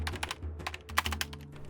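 Typewriter keys clacking in quick, uneven bursts, with a crisp mechanical strike on each keystroke and no voices.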